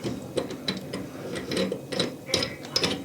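Threaded part being screwed by hand into a household toilet fill valve, giving soft irregular clicks and scraping taps at close range, with no talking.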